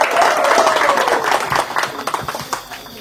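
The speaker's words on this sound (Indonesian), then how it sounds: "Tepuk tangan dong" Audience applause at a school canteen talk show, a burst of clapping that starts full and gradually thins out, mixed with a little crowd noise.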